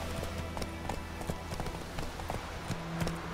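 Hooves of Roach, Geralt's horse in The Witcher 3, clip-clop in a steady trotting rhythm, close and moderately loud over a faint game backdrop.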